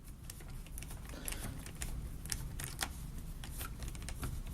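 A 2.5 screw being driven back into an RC car's steering block, heard as quick, light clicks and ticks from the driver and small parts, close by and steady with no talk.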